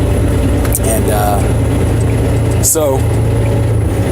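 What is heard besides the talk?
truck engine running in background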